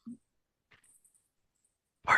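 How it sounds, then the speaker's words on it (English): Dice clattering and rolling across a table during a tabletop role-playing game session, a short, bright burst of rattling at the end after near silence. "I hope you can hear my dice."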